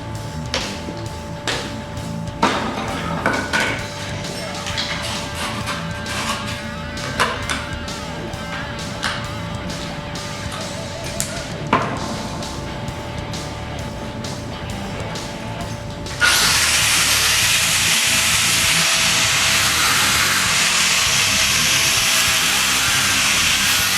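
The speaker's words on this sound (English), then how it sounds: "So I'm going to take my cutoff wheel and V down into this material a little bit more so I can get a whole lot better penetration." An angle grinder's cutoff wheel cuts a V groove into cast iron for a weld repair, first as a steady mechanical whir with sharp clicks and scrapes, then a loud, continuous broadband hiss of abrasive grinding for the last several seconds, close by.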